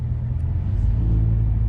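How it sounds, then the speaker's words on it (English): Inside a moving truck, a deep, steady engine and road rumble fills the cab, loud and constant with no talking. "test out the sound quality here in the truck when we riding"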